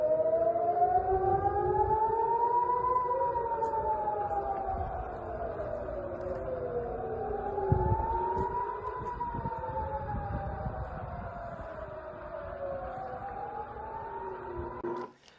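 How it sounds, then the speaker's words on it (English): Wailing air raid sirens rise and fall in long overlapping sweeps, loud and continuous from start to finish with no talking. "this is the moment when the sirens went off"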